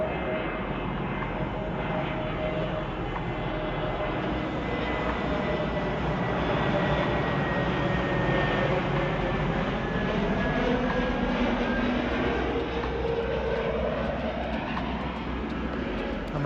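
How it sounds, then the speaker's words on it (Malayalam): An airplane flies over near Idukki, its broad steady engine roar holding loud and continuous throughout without any talk. "നമുക്കിപ്പോൾ നോക്കുമ്പോൾ തന്നെ കാണാൻ വേണ്ടി ഒരു ഫ്ലൈറ്റ് ഇതേ വരുന്നുണ്ട്."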